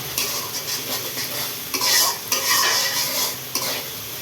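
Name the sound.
frying onion, ginger and garlic in a pan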